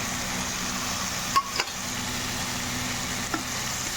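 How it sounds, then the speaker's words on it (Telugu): Chopped onion pieces dropped into a hot pan and stirred for a South Indian mulakkaya pappu charu, giving a soft steady sizzle with a few faint clinks of the spoon. "ఇప్పుడు మనం కట్ చేసుకున్న ఉల్లిపాయ ముక్కలు కూడా ఇందులో వేసుకోవాలి"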